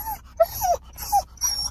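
A dog whimpers and whines in a few short, pitched cries with brief pauses between them, close and fairly quiet, with no talking over it.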